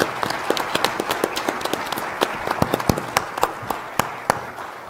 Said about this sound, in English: Let's give them a round of applause for being a good audience.